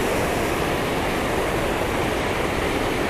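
A waterfall pouring into a fast-flowing river on an early March catfishing trip gives a steady, loud, broadband rush of water with no pauses and no voices.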